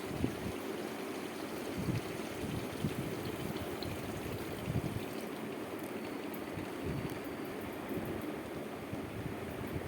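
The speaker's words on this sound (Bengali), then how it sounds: "এবার আমার যতটুকু মাছ আছে তার পরিমাণে আমি একটুখানি জল দিয়ে দেবো" Water is poured into a pan of katla fish, making a soft, even rushing splash that goes on for several seconds at low volume, with no talking.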